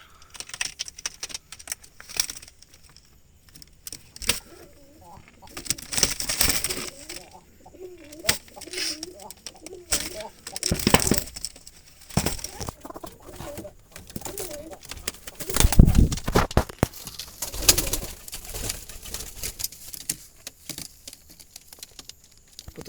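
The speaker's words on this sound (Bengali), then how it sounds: "এটা একটা নবীন কবুতর" A young Jalali pigeon coos in soft, intermittent bursts, mixed with scattered rustling and clatter from a loft with other pigeons, with a few louder knocks and handling noises between the calls.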